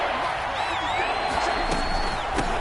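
Dense, steady roar of the Seattle Seahawks home stadium crowd in a Madden NFL football game, loud and continuous with occasional whistles and sharp accents rising above, a commentator's voice running underneath.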